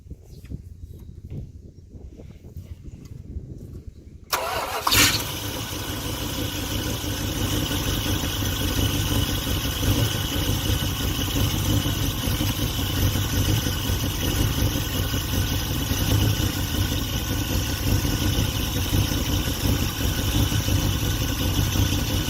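A Dodge Ramcharger, left sitting in weeds for a long time, cranks and fires after a few quiet seconds, then settles into a loud, steady idle that runs on without a break.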